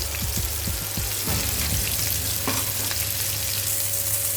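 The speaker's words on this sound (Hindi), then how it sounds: "तो हमने वही पैन में थोड़े से तेल डाल दिए हैं और इसके ऊपर हम ऑनियन डाल देते हैं।" Chopped onions sizzle and crackle steadily in hot oil in a pan for a Veg Handi, a loud, continuous fry with a few stirring clatters early on and no talking.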